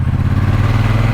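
A 2024 Triumph Bonneville T120 pulls hard under acceleration, its parallel-twin engine throbbing loud and close in a steady, pulsing drone.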